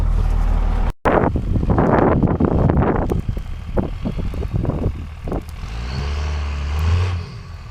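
A Cummins diesel truck engine idles and warms up in a snowy blizzard, a low steady rumble heavily masked by gusting wind buffeting the microphone, with some knocks and shifts in engine tone.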